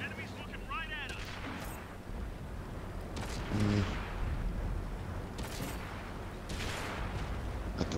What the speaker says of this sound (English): Was it a German artillery?